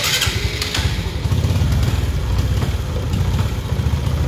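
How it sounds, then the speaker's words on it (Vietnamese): A Honda Future 125 Fi motorcycle with a fuel-injection fault being started up: the starter cranks and the engine catches, running as a loud, close, uneven idle throughout, with no talk. "chúng ta đề khởi động nổ máy coi sao"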